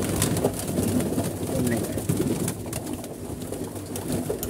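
Pigeons in a loft coo continuously at close range, a dense, steady layer of soft rolling calls with occasional flutters and knocks mixed in.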